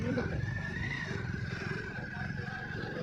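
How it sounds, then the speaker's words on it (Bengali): A steady motorbike engine hum and road rumble heard from on the moving bike, with voices faintly under the noise. "বাইকে করে যাচ্ছি"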